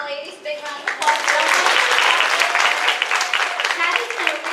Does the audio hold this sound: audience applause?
yes